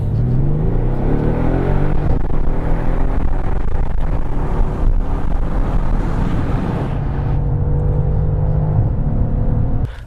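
A Mercedes S63 AMG coupe launching hard in sport mode, its boosted engine roaring loud and steady throughout, with a deep droning rumble and rising revs that settle and shift midway.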